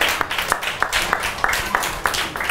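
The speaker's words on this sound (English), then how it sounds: "Give him a round of applause one more time." A small crowd of children applauds, a dense patter of claps close by that swells and dips in uneven bursts without clear speech on top.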